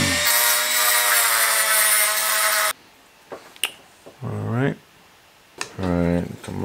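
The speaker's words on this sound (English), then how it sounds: "So just start sanding down the teeth from the Legos." Sanding the teeth off Lego pieces for a custom news van model, a loud steady abrasive buzz for almost three seconds, then stopping, followed by short bursts of talking.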